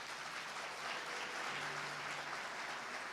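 Steady applause from a church congregation at a Sunday service, dense continuous clapping at an even level throughout, with no voices standing out.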